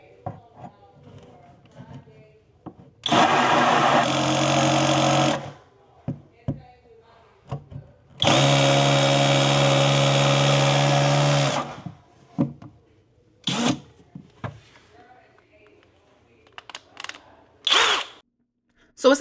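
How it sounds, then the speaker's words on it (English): A power drill with a hole-saw bit whirs in two long bursts of several seconds each, separated by pauses, followed by short clanks and handling noises. "I'm going to go ahead, drill my holes using this circular bit"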